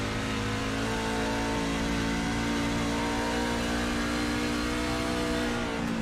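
A racing truck engine in iRacing holds a loud, steady drone as it rolls through a corner at Dover and comes back onto the throttle, running continuously without talk.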